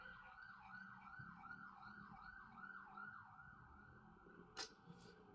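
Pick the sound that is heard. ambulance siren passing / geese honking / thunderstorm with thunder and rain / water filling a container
ambulance siren passing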